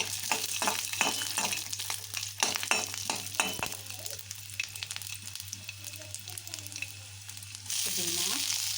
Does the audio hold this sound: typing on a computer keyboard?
no